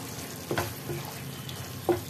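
Paneer frying with spices in a new frying pan, a low steady sizzle with a few soft stirring scrapes and light knocks.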